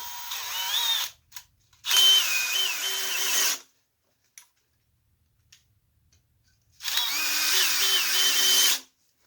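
A power drill drives coated deck screws down tight in three bursts, each a loud whine with rising pitch as the screw seats, separated by quiet gaps with faint clicks.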